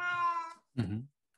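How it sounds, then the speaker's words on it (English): A house cat meows twice close by, a clear drawn-out tonal cry followed after a short pause by a lower, rougher second meow, then silence. "Sorry about my cat."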